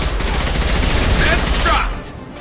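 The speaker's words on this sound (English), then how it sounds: "Firing a high-impact shot!" Heavy gunfire from a high-impact weapon in the video game Mass Effect 2, a loud dense burst of shots with booming low end lasting most of the moment before fading out.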